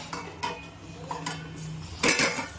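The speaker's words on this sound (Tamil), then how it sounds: "இதை ஊற்றி மூடி வைங்க" Metal pot and lid clatter in a few light knocks and scrapes, ending in a louder clang and rattle as the lid settles, heard close and alone.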